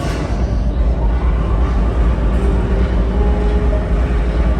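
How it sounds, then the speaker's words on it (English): Mine conveyor belts at a mining museum start and run with a loud, constant low mechanical rumble and hum, steady throughout with no pauses. "Let's start the conveyor belts."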